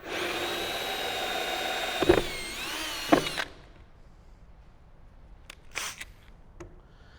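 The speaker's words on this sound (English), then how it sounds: "So just go ahead and drill through." A power drill whines steadily for about three seconds as it bores through a Jeep Wrangler JL panel, with a couple of bumps, then stops; faint clicks and handling noises follow.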